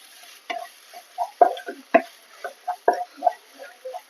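Potatoes with turmeric, cumin and coriander powder are stirred in a frying pan, making a string of short scraping knocks at an uneven beat, close and fairly clear over a quiet background.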